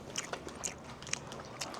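Soft, close-up chewing with a few small crunchy bites in a loose rhythm, quiet and without talking.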